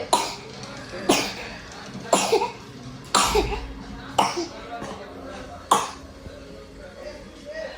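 A woman coughs repeatedly, about six or seven sharp, throaty bursts spaced roughly a second apart, close and clear, with faint background noise between them.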